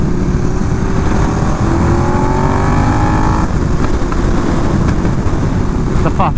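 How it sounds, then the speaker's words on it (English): A KTM 1290 Super Duke R motorcycle engine roars loud and close, its revs sweeping upward with a rising whine before easing off into crackling exhaust pops, all under heavy wind rush. "The pops sounds so good on this bike."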